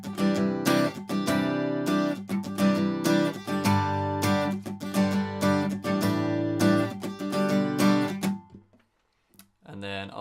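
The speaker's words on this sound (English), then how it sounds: "So I'll just quickly run through 1 chord progression using this strum pattern" Acoustic guitar strums a chord progression from Neck Deep's In Bloom in a lively rhythmic pattern, close and steady for about eight seconds before stopping, followed by a few faint trailing sounds.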